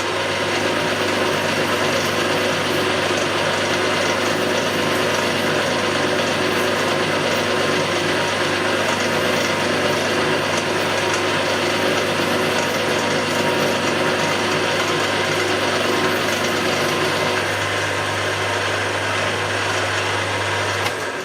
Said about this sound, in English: I'm just turning this in by hand, with the quill, not the lever like the drill